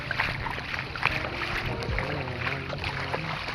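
River water rushes and churns steadily close to a boat, mixed with a breathy wash of wind. No one speaks.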